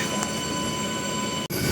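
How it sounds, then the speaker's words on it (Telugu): A MEMU passenger train pulling away from a station early in the morning, a steady loud rumble of wheels and car noise filling the whole stretch, with one brief sharp dropout near the end. "ఎగ్జాక్ట్గా 2 minutes తర్వాత మన ట్రైన్ అయితే ఇక్కడ నుంచి స్టార్ట్ అయిపోయింది"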